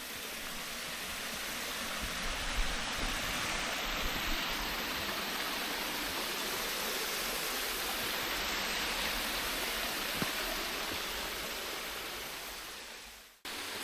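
Steady, full rush of water flowing from an old well, close and continuous for the whole stretch, loud and unbroken with no voices.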